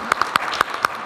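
Applause at a press conference for a hip-hop concert: a handful of distinct, fairly close hand claps in an uneven rhythm over a low murmur of background clapping.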